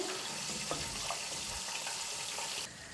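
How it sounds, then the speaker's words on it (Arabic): Hot water pours steadily into a cooking pot in a home kitchen, a continuous soft splashing stream with faint clinks, stopping abruptly near the end. "راح نحط في 2 كيسان ونص تاع الماء سخون"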